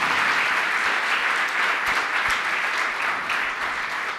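Sustained applause from a large gathering at a Hindi religious discourse, steady and dense throughout, loud and close with no speech over it.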